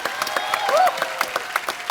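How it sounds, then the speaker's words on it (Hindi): An audience applauds a doctor on a comedy show stage, with steady, dense clapping from a large crowd throughout. "जोरदार तालियां डॉक्टर साहब के लिए प्लीज"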